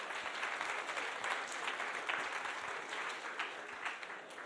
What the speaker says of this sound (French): Et on peut l'applaudir.